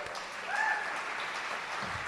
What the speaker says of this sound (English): Can we at least have a hand clap?